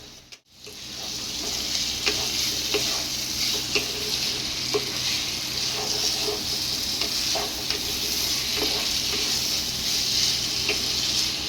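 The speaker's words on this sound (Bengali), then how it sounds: "চানাটাকে দিয়ে আমি ভালো করে কিছুক্ষণ কষিয়ে নেবো।" Boiled chickpeas are stir-fried in a pan with sauce for chana masala, giving a loud, steady sizzle close by, broken by regular scrapes and taps of stirring.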